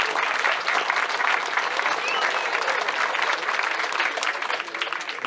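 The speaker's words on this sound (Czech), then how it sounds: "Pojďme jim všem za to potleskat." An audience at a 90th anniversary celebration of the Slovan Broumov club keeps up a sustained, dense applause, an even wash of many hands clapping at moderate loudness from start to finish.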